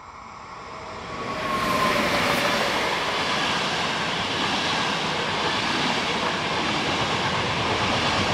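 A regional train passes on the Meran to Brenner line near Vahrn by Brixen, rising from a distant rumble to a loud, sustained roar of wheels and carriages that holds steady as it goes by.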